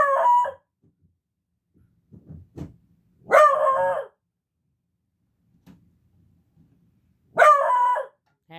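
A female beagle bays in three loud, drawn-out bursts separated by long silent gaps, with a few faint knocks in between.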